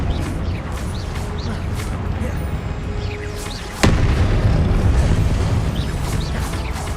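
A Confringo fire spell detonates in Hogwarts Legacy, a sharp loud burst near four seconds that leaves a heavier rumbling bed of dense game action and effects behind it.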